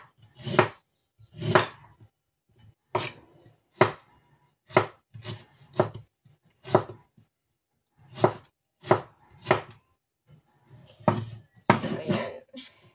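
A knife chops onion and other ingredients on a cutting board for Filipino home cooking, a series of sharp, close, separate cuts in irregular rhythm with short pauses, occasionally in quick pairs.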